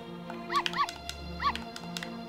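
A small dog in a Zelda fangame, Mercuris Chest, gives three quick synthesized barks, two close together and one a bit later, over a soft, steady game music bed.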